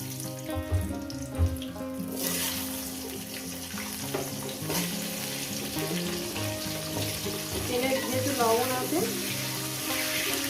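Potatoes are added to hot oil with cumin seeds and fry, giving a steady sizzle mixed with clattering kitchen noise and a background tone that runs throughout, with no voices.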